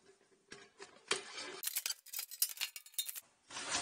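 Scissors snip around the edges of a part for a three-piece valve box cover, a close series of quick crisp cuts with several bright clustered snips in the middle, faint overall and without speech.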